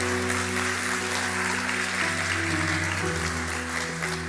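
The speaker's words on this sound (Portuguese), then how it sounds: "Dê o melhor aplauso, você pode dar." Church congregation applause during a Sunday morning service, a dense steady wash of clapping layered over sustained organ or keyboard chords that shift pitch partway through, continuous and fairly loud.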